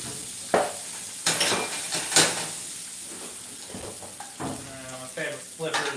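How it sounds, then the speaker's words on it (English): Metal utensil scraping burnt bits off the bottom of a hot pan, with several sharp scrapes and clinks over a continuous sizzle and steam hiss, while a person talks intermittently. "Just get all that burnt goodness off of the bottom of the pan."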